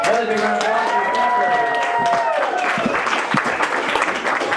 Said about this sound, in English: Another big round of applause for the